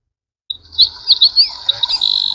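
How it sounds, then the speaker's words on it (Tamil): Recorded birdsong plays from a massager's nature-sound mode: bright, loud chirps and warbling tweets start after a brief silence and trill on in quick bursts. "அந்த பறவைகளோட சவுண்ட்லாம் கேட்குங்க."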